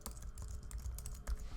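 Fast, steady typing on a computer keyboard while a project name is entered, a close, continuous run of light key clicks with no talking.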